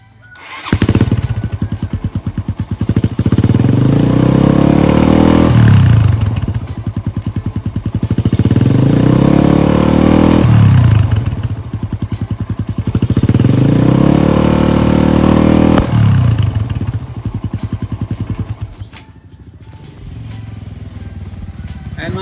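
A Raider 150 motorcycle fitted with an APIDO v3 exhaust pipe with silencer revs loudly up close, four sustained half-throttle revs, each rising then dropping back, before settling toward a lower idle.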